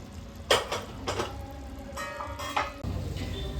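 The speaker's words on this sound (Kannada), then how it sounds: "ಇವಾಗ ಅನ್ನ ಹಾಕ್ಕೊಳ್ಳೋಣ." Cooked rice going into a pot of pork biryani set over an iron griddle, soft scraping and spoon clatter against the pot with a low sizzle underneath.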